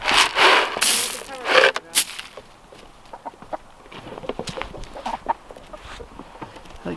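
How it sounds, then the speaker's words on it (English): Backyard chickens fed food scraps, clucking and squawking loudly up close at first, then softer scattered clucks and pecking sounds continue. "Hey chickens! You still hungry? Or those food scraps fill you up?"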